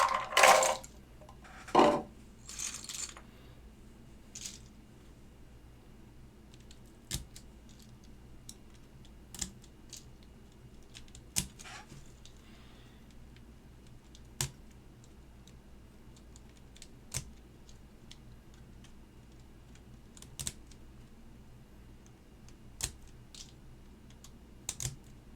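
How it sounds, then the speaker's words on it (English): Alps SKCM Cream keycaps pressed onto a GSKT-00 keyboard, a few clattering plastic clicks at the start, then sparse, sharp single taps and snaps spaced a few seconds apart over a quiet room. "I'm just going to put my other keycaps on here"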